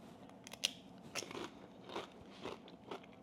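A tortilla chip scooped through a hearty southwestern skillet casserole is bitten and chewed, giving a few close, crisp crunches spaced about half a second apart, quiet and without talk.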